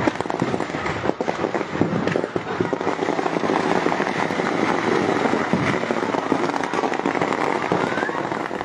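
Dense, continuous crackling of firecrackers exploding in rapid bursts from a burning fireworks store, loud and unbroken, like a long chain of small blasts with faint voices underneath.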